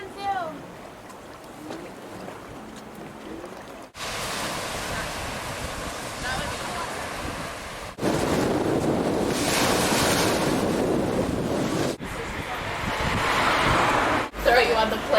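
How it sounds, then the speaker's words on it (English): Mediterranean Sea waves wash up on the shore in steady, loud surges with strong wind buffeting the microphone, and the roar swells in several distinct bursts. "Trying to get water from the Mediterranean Sea."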